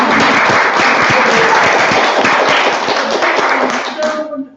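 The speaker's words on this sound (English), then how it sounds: "So can I give you a clap now" Audience clapping for a prize winner at an awards ceremony, a close, loud, steady burst of many hands that tapers off at the end as a voice begins.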